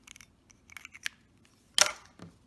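Scissors cut crochet yarn up close: a scatter of small metallic clicks and snips, then one louder, longer crisp cut near the end, with no voices.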